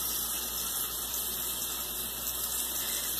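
A strong jet of water pours from a kitchen faucet in a steady, loud, unbroken hissing rush that fills the whole stretch with no pauses.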